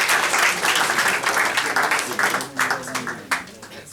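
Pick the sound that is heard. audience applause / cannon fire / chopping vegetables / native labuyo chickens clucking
audience applause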